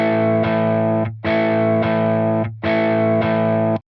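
Distorted electric guitar chords played through Tonex amp modeling software, four sustained hits in a steady rhythm, each ringing about half a second to a second before cutting off, loud and alone with no voices.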